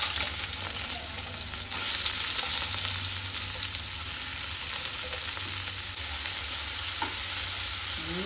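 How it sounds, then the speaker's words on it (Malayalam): Sliced onions sizzling in hot coconut oil in a pan, a loud continuous hiss with occasional stirring scrapes and no talk. "ഇനി നമ്മൾ ഇതിലോട്ട് സവാള എരിഞ്ഞു വെച്ചതാണ് ഇടാൻ വേണ്ടി പോകുന്നത്"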